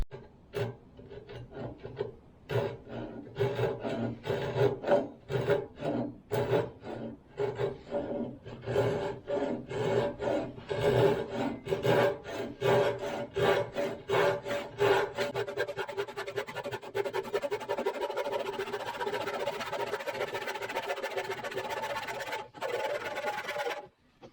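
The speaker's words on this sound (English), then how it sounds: "The old man and the old saw, we made a pretty good cut." An old hand saw cuts a curved wooden rub rail for a Grand Banks boat, a steady series of rasping back-and-forth strokes, close and moderately loud, over about twenty seconds before stopping.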